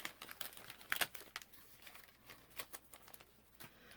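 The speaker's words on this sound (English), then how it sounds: "let me put these in my little plastic bag before I lose them." A small plastic bag crinkles faintly as craft items are dropped into it on a journaling desk, with soft irregular crackles and rustles and one brief sharper rattle.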